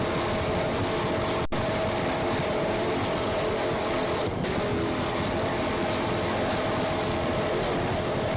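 Racing powerboat of the Pipeline Express team at the 1989 Freeport Grand Prix in New York, its engine a steady, dense roar mixed with wind and water rush, continuous and loud for the whole stretch.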